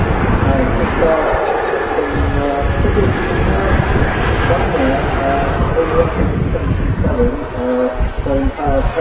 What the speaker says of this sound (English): The aircraft is pitching down, a Ryanair 737-800